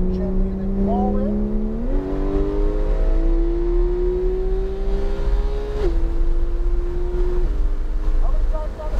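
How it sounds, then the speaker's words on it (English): A race car's engine drones loudly from inside the car on the Palm Beach Speedway as the driver eases onto the throttle, its steady pitch climbing in a few small steps, with talking over the engine. "Now we're just gently going on that throttle."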